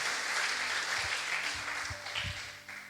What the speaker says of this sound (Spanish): Denle un fuerte aplauso a Él.